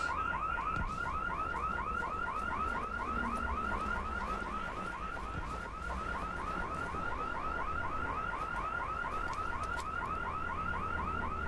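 A car-style alarm in the video game IGI Covert 2 wails continuously in a fast, repeating electronic warble, steady and moderately loud throughout with no talking.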